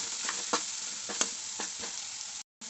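Potato pieces sizzle steadily in hot oil with ground masala for a simple aloo fry, a close, bright hiss broken by a few stirring scrapes and a brief cutout near the end.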